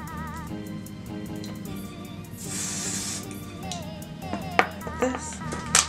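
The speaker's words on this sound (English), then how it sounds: "So I am just gonna give this a little spray." A short hiss of hairspray from an aerosol can in the middle, set against soft background music with a few light taps afterward.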